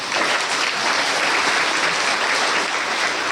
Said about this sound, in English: We clap anew.